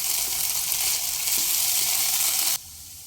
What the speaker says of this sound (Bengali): আদা রসুন পেস্টটা দিয়েই কয়েক সেকেন্ড নেড়ে নেব